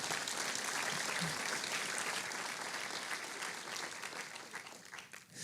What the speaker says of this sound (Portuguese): Dê uma salva de palmas a Deus.